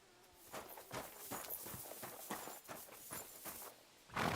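Horse hooves clip-clop in a video game, a steady rhythmic series of hoofbeats at moderate volume, heard alone with no talk over them.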